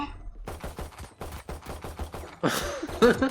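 Rapid gunfire from a Valorant match, a string of about nine sharp close shots in quick rhythm, followed by a louder, denser burst of shooting and clatter near the end.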